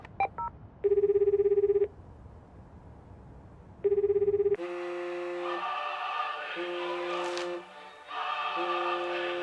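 Telephone tones in an animated scene: a few short beeps, then two long steady ringing tones separated by a pause, followed by music with sustained notes.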